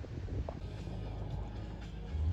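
Wind blowing outdoors around a French château under roof repair, a low, steady rumbling gust buffeting the microphone, with no talk.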